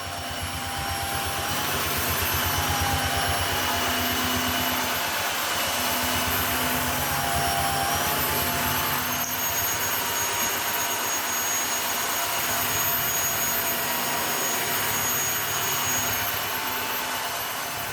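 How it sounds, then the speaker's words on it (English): Dreametech H11 Max wet/dry vacuum mopping a wood floor, a loud continuous whooshing motor roar with a high whine whose pitch and level shift as it runs. "the level of noise coming from the vacuum was changing"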